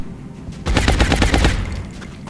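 Suppressive gunfire in XCOM: War Within, a rapid automatic burst of about a dozen close, loud shots lasting under a second, with quieter game ambience before and after.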